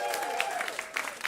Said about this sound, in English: So give them both a round of applause.